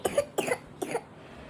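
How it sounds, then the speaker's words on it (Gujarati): A sick small child with fever and phlegm gives three short, chesty coughs close by, evenly spaced within about a second, followed by quiet. "જો કેવી ઉધરસ ખાય છે।"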